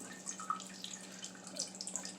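Tap water trickling gently into a kitchen sink while raw, half-frozen chicken is rinsed, a soft, faint, steady patter with small splashes and a low background hum.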